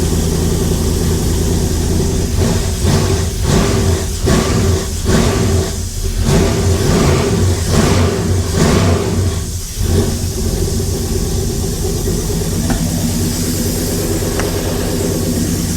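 A junk car motor with suspected low oil pressure runs loud and close, a steady low rumble with repeated revs and slight lifter clatter.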